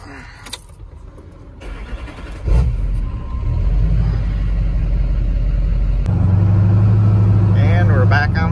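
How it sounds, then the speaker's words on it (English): A pickup truck with its exhaust chopped halfway back starts up and settles into a loud, steady rumble, revving a little, heard close by. "Hopefully my truck isn't too loud."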